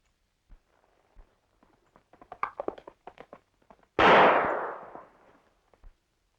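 A single sharp gunshot cracks out loud in a 1936 western, then fades with a rumbling echo. Light clip-clop of hooves and small knocks come before it.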